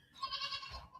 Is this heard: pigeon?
no